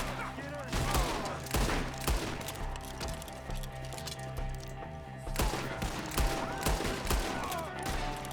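Gunfire in a Red Dead Redemption 2 shootout: repeated sharp shots and rapid volleys crack throughout, dense and loud, with voices shouting beneath the firing.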